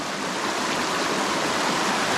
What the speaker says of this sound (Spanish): Esta es la cascada desde acá de arriba. Aquí está el agua muy clarita, muy bonita.